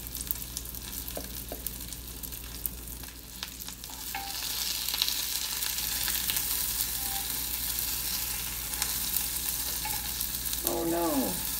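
Pierogies and onion fry in a pan, a steady hiss of sizzling oil with occasional utensil clicks and scrapes, the sizzle growing louder midway and a faint clatter near the end.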